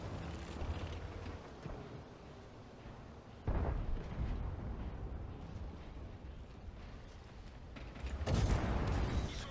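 Tank cannon fire in World of Tanks during a match against a T-28, with heavy booming blasts at the start, a loud report near the middle and another near the end over a continuous rumbling battle din.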